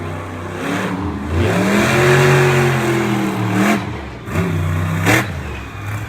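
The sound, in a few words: monster truck engine revving on the track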